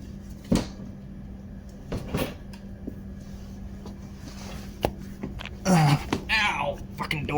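A door is opened and bumped in a Jeep ZJ overlander setting, giving a few sharp knocks and clunks over a low steady hum, followed by a louder scrape and a pained vocal outburst.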